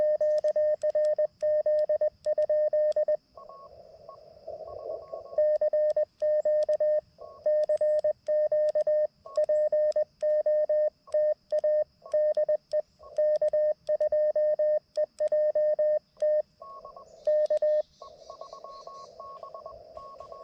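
Morse code CW from another station on ham radio, heard on a QRP portable park activation with an LNR Precision MTR-4B. Steady rhythmic keyed tones run through the whole clip with crowded, interfering signals close alongside.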